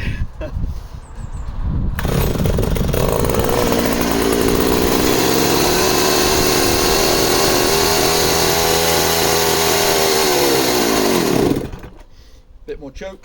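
A chainsaw left untouched for a week is started and revs, a loud rasping two-stroke roar that fires up after a couple of seconds, runs steadily for about ten seconds, then dies away, with someone talking around it.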